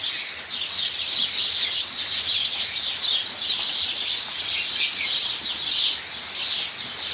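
Birds chirping and calling at about six in the morning while steady rain falls over a village soybean field, thin high twittering repeated over a constant soft hiss of rainfall.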